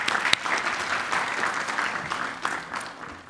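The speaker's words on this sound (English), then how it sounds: "Everyone, round of applause." A business forum audience at Oxford gives a round of applause: brisk, close clapping from many hands with a few sharp louder claps, lasting a few seconds and tapering off near the end.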